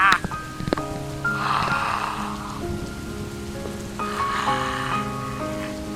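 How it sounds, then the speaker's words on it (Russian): Steady broadband rush of a small river flowing through a spring forest, continuous and fairly close, with faint tonal layers running underneath. "Вот она, речка, вот она."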